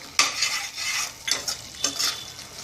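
Chole masala sautés in a pan, close up: three or four distinct scraping stirs with a utensil, each followed by a soft sizzle that fades between strokes.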